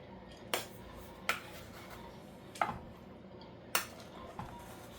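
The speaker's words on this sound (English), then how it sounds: "let's get this rice all mixed up in here" Rice stirred in a small pot while making mini steak burritos, with a handful of sharp spoon taps and scrapes against the metal spaced a second or so apart over a soft background hiss.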